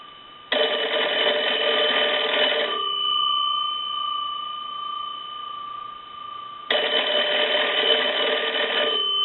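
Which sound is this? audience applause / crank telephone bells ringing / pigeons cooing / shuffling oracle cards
crank telephone bells ringing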